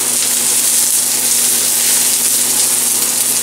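Cauliflower sizzles steadily in a hot pan, a constant loud frying hiss with no pauses and no voices.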